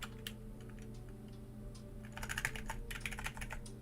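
Loud computer keyboard clicking during a live game stream, sparse scattered key presses at first, then a quicker, busier burst of typing in the second half, close and clear over low room hum.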